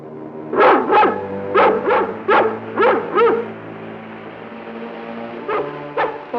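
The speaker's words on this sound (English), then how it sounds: "That sounds like King's bark." A dog named King barks in a quick series of about eight sharp, fairly close barks, then pauses before two more isolated barks.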